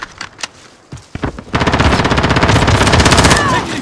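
Machine gun fire in the video game Call of Duty Modern Warfare, in a team deathmatch: a few scattered close shots, then a loud, sustained rapid-fire burst rattling on to the end.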